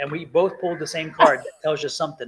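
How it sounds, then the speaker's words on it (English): A dog whimpers and yips in short bursts close by, overlapping with a person talking indoors. "I apologize for the dog, but we're working through it"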